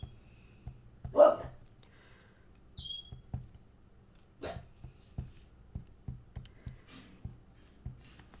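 A dog gives a few short, sharp barks at a distance, among scattered soft thumps in a quiet room.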